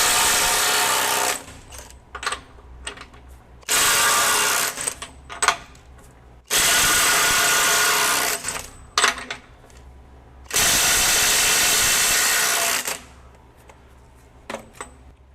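A Kobalt 24V brushless impact driver runs in reverse at full speed on a full battery, with four loud sustained bursts of whirring and hammering, each lasting about two to three seconds and separated by clicks and handling noises.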